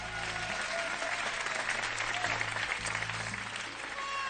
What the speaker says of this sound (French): Applaudissons Nelly.